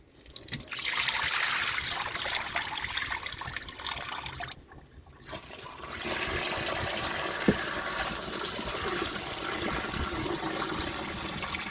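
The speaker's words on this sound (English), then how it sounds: "let's just give this a good little rinse off and then scald them off" Running water rinses pig tail and cow skin for Jamaican red peas soup, a steady close splashing trickle that cuts out briefly partway through, then resumes.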